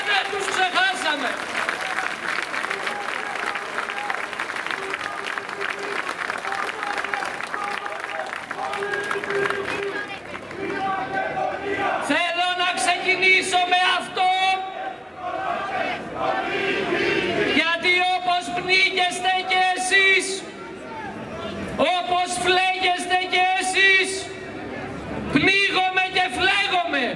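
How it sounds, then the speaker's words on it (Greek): A crowd at a gathering applauds in sustained clapping that swells and dips over nearly half a minute, with a voice speaking over the start. "Θέλω να χειροκροτήσετε για να ακουστεί μέχρι τον παράδεισο"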